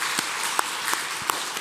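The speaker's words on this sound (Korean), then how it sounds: "박수로 하겠습니다." Brief applause from a church congregation during a Sunday worship service, welcoming a newcomer; a short burst of steady clapping with a few louder individual claps standing out, with no voices over it.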